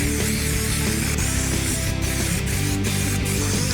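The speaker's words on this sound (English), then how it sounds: "just gonna blast a little bit of primer over it" Primer sprayed steadily from an aerosol can onto a Mk1 Caddy body panel, a continuous close hissing blast with faint rattling mechanical undertones.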